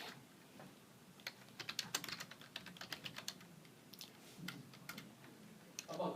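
Keystrokes on a computer keyboard typing text, quick irregular clicks in short bursts, close and fairly quiet, with no talking.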